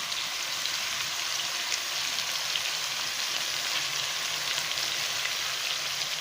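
Pumpkin and potato curry sizzles steadily in a pan as it is stirred, a continuous even hiss with no clear individual scrapes, fairly close and alone.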